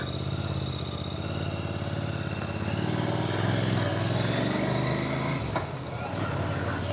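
A Royal Enfield Continental GT 650 motorcycle, due for its first service and showing a gear-shifting grinding fault, pulls away with a steady, close engine drone that holds for the whole stretch over road and wind noise.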